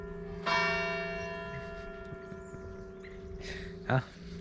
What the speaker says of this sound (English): Now you have to tell me what time it is by the strike of the bell.